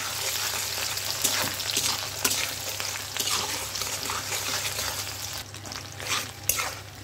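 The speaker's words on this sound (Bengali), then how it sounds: "পেঁয়াজটা একটু লাল করে ভেজে নিব।" Onions frying in hot oil with bay leaves and whole garam masala for chicken korma, a steady dense sizzle that runs through with a few sharper crackles and spits and some light stirring.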